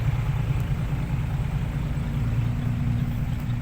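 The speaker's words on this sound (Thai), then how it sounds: "ดูสิครับรถไถตะกุยตะกุยลง" Tractor stuck deep in mud, its engine droning low and steady under load, a continuous rumble with no talk over it.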